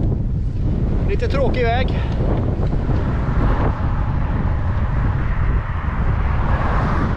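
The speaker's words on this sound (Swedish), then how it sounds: "Det är blåsigt idag." A strong headwind buffets the microphone during bikepacking on Gotland, a constant loud roar and rumble, with someone speaking briefly in Swedish over it.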